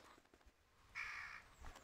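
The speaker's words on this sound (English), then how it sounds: "You can tell because there's a bunch of ravens, nevermore." Ravens caw in the Steven Spielberg's Director's Chair video game: one harsh, drawn-out call at moderate volume over a faint ambient background, with no talking.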